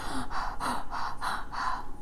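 Active breathing through the mouth as a meditation breathing technique: a run of about six quick, forceful, evenly spaced breaths, close and loud, with no talking.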